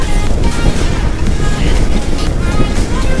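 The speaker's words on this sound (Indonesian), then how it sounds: "anginnya gede banget" Strong wind roars steadily over the microphone while riding an electric motorbike along a busy road, a loud continuous buffeting rush that fills the whole clip with no clear voices.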